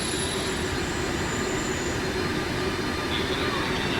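A regional train from Venezia Santa Lucia to Udine rolls into platform 4 at Venezia Mestre station, a steady loud rumble of wheels with thin high squeals and a constant hiss, unbroken from start to end.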